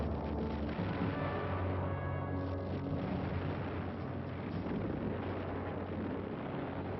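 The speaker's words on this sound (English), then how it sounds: "they erupted in fury, pulverizing the coast in response to distant enemy artillery and machine gun fire" Heavy naval bombardment with artillery and machine gun fire along an Italian coast, heard as a continuous dense rumble of booms and blasts with no clear gaps, loud and sustained throughout.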